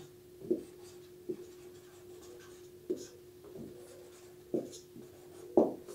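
Pen or pencil writing on paper, a handful of separate scratchy strokes spaced irregularly over a faint steady hum, close and fairly quiet, with no talking.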